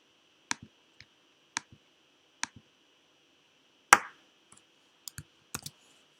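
A computer mouse clicked sharply about ten times in an irregular rhythm, close and crisp against near silence, with one louder clack midway and a quick cluster of clicks near the end.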